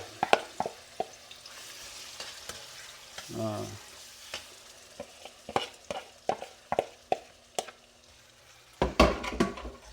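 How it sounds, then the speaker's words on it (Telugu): Food deep frying in hot oil at home, a soft steady bubbling hiss broken by frequent sharp utensil taps and clatters, with a louder clatter burst near the end. "ఇక డీప్ ఫ్రై అయ్యేంత వరకు ఉంచాలి కాక దీన్ని"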